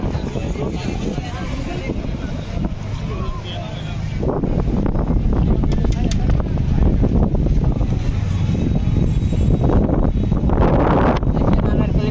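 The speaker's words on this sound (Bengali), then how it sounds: "অনেক বাতাস এখানে" Strong wind gusting at Sugandha beach in Cox's Bazar during heavy rain, roaring steadily against the microphone and growing louder partway through, with a person talking over it.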